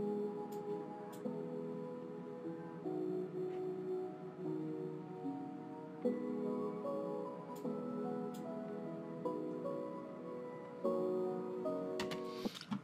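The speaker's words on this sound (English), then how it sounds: "you can use this reverse melody to just have some background sound like this" A soft, reversed melody washed in reverb plays as a quiet background pad in an FL Studio mix. Swelling tones sustain and shift in pitch at a low level, ending with a brief burst near the close.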